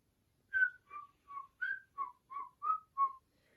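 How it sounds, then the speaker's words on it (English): Someone whistles a merry tune in eight clear, evenly spaced notes, clean and fairly soft against near silence. "they heard someone whistling a merry tune off in the distance"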